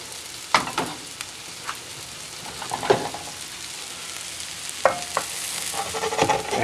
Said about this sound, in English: I'm going to start dumping the onions and the ginger and garlic together.